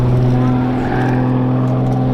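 An Extra 330 aerobatic aircraft's nose-mounted engine drones with a steady, loud propeller hum at an air show at Dunsfold Wings & Wheels, held constant throughout.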